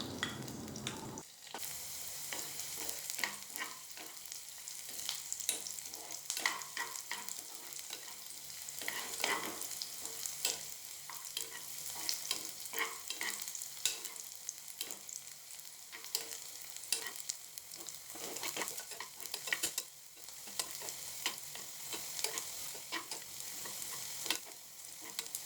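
Chopped shallots frying in hot ghee in a pan, a continuous close sizzle with crackling pops and occasional stirring scrapes, steady throughout with no talk.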